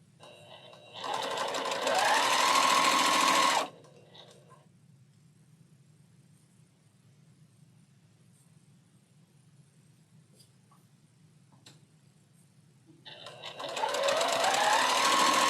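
Close, loud runs of a sewing machine stitching appliqué onto a quilt block, one sustained burst early and another at the end, with a quiet stretch of faint room noise and small handling clicks between.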